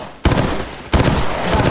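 Two heavy, close gunshot bursts in the Apex Legends Mobile video game, each followed by a ringing decay, loud and alone.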